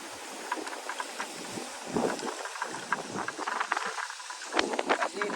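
Hurricane Ian's winds in St. Petersburg, Florida, rush past in rough, roaring gusts that swell and fade, with broadband buffeting noise heard from inside a moving car.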